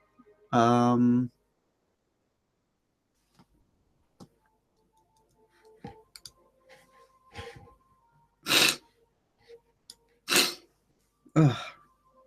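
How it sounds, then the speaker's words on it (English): A single loud harmonic burst followed by a series of sharp, breathy sniffs spaced a second or so apart, close to the microphone, with quiet gaps between. "Sorry, I keep sniffing"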